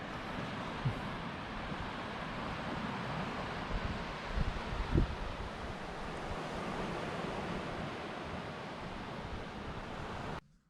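Sea waves wash steadily onto the shore at Larnaca, Cyprus, a continuous broadband roar with some wind noise and a few brief louder bumps near the middle, ending abruptly.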